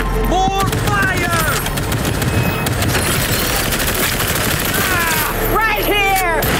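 Dense, rapid automatic gunfire crackles nonstop in a Cyberpunk 2077 Phantom Liberty firefight, loud and close, with brief shouted voices near the start and end.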